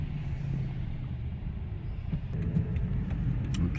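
A car's low engine rumble and tire noise hum steadily as it turns onto a snowy highway on-ramp, close and moderately quiet, with faint ticking near the end.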